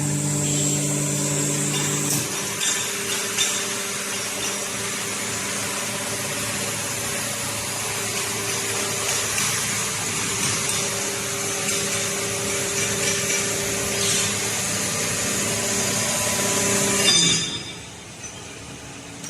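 A REXON fully automatic lubricating-oil filtration and purification machine hums steadily with a tonal motor drone through its automatic shutdown sequence, then winds down near the end, heard alone.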